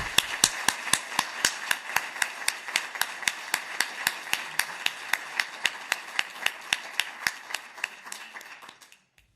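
Audience applause for three participants at the final session of a stained-glass end-of-studies presentation, a steady run of sharp, regular claps in a small room that stops abruptly near the end.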